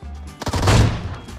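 Automatic fire from a Glock pistol in a video game, a short loud burst of rapid shots lasting about a second.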